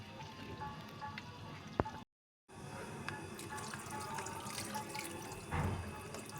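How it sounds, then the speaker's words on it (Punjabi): Water poured into a pan of soya chunks, a quiet steady trickle and splash with a brief gap partway through. "ਇੱਕ ਕਟੋਰੀ ਇਹਦੇ ਵਿੱਚ ਆਪਾਂ ਹੋਰ ਪਾਣੀ ਐਡ ਕਰਾਂਗੇ"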